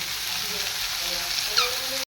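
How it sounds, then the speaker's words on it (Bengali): A cauliflower, potato, pea and tomato curry fries in a wok in a home kitchen, producing a steady close sizzle with a faint stirring clink near the end. "ফুলকপি আলুর তরকারিটা বসিয়ে দিয়েছি"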